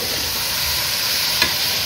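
Meat and its juices frying in a pot while making haleem, a continuous close sizzle with a brief stirring clink partway through.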